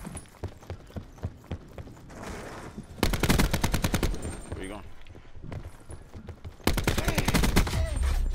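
Shotgun blasts in Black Ops 4 gun game mode, a loud burst of repeated shots around the middle and another near the end, with lighter clicks and footsteps earlier and a player talking over it.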